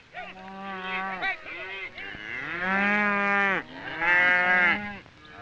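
Range cattle on the Arizona Strip lowing, a cow giving several long drawn-out moos close by, one after another with short breaths between, no voices.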